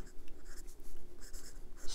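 A fountain pen with a broad steel nib, from the ASC Studio Italian resin piston filler, scratches across Clairefontaine 90 gsm paper in short close strokes with soft rhythmic scraping and brief pauses.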